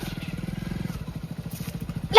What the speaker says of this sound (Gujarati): બાઈક નો અવાજ આયો